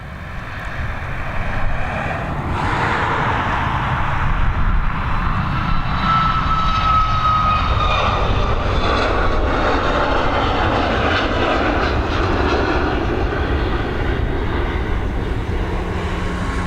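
A fixed-wing airliner taking off at Dublin Airport, a loud, steady jet engine roar that swells early and holds a broad, sustained rumble with a faint whine on top, heard alone from close range.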